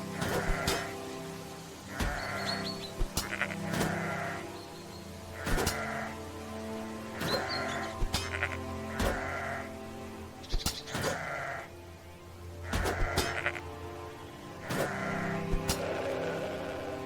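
Sheep in The Black Grimoire: Cursebreaker bleat over and over in bursts of nasal cries spread across the clip, with a steady rain-like ambient wash and soft game music underneath.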